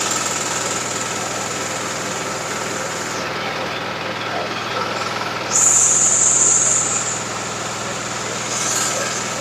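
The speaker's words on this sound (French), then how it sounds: "on va éteindre le premier moteur et laisser un seul moteur en train de fonctionner" A single engine runs steadily on a GBU 30L drilling machine in the field, a continuous mid-level drone with a brief louder surge near the middle.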